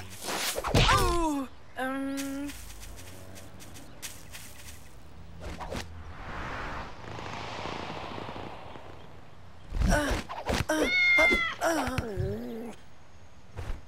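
Cartoon cat meows in short, wavering, high cries near the start and again near the end, with a soft whooshing rush in between and no talking.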